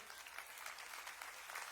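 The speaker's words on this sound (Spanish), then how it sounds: "Dar un aplauso al Señor." Applause from a church congregation during a Sunday service in a cathedral, steady and fairly faint, with no voices over it.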